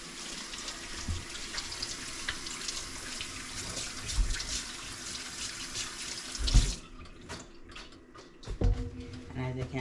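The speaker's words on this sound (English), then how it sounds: "Now I'm gonna wash my hand." Tap water runs steadily into a kitchen sink as a cook rinses her hands after seasoning fish. The flow stops partway through and is followed by a few drips, soft clatters and faint voices.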